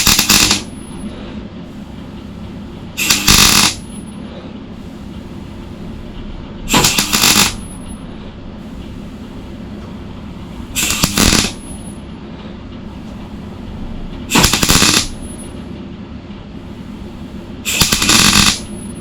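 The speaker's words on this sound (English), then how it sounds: "A little bit more welding underneath there." Welding on the rusted inner wing of a Mk2 Ford Fiesta comes in six sharp crackling bursts, each about a second long, spaced evenly with quiet pauses between them, close and loud.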